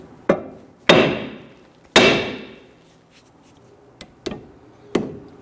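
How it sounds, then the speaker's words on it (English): A hammer strikes the steering knuckle and lower control arm of a Dodge Charger to loosen the ball joints, giving six sharp metallic blows at irregular intervals, some ringing out briefly, with no talking. "we're going to strike the knuckle here and the lower control arm here to loosen these ball joints"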